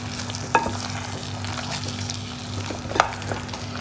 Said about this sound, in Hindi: अब हम इसको कुछ सेकंड्स के लिए स्टर करेंगे और सर्व कर लेंगे।